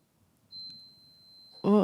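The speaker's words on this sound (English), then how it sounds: "Oh, something's beeping in my apartment. Oh, it's my slow cooker." A slow cooker in an apartment gives a single long, thin electronic beep in an otherwise quiet room, followed immediately by a person starting to speak close by.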